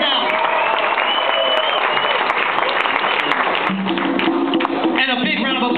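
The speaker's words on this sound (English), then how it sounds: "Put your hands together for Peaches on the sound." Applause fills the room at a live evening show at the Black Repertory Theatre, clapping mixed with voices and a few whoops, loud and continuous throughout.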